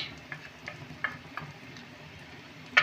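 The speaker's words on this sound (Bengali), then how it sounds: "সব মশলাগুলোকে আমি একটু সামান্য কষে নেব" Ground turmeric, coriander and cumin fry in a pan, giving a faint sizzle broken by a few soft stirring clicks and a sharper scrape at the end, close by and with no voices.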